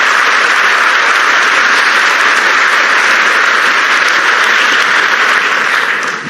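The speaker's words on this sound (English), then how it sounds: "Big applause again for him," An audience at the UEFA Euro 2025 group stage draw in London applauds loudly and steadily, a dense wash of clapping that fades slightly at the end.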